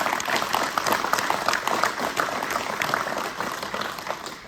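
Audience applause fills a governor's bill-signing event for HB 1090 in Mitchell, South Dakota, with dense, steady clapping from a sizable crowd that holds level and then fades slightly.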